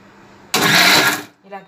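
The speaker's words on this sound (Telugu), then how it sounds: "ఇప్పుడు మనం మిక్సీలో ఒకసారి తిప్పేసుకుంటే అయిపోయింది." A mixer grinder gives a short, loud whir while pulsing keema mixture, starting abruptly and stopping after under a second, with brief quiet around it.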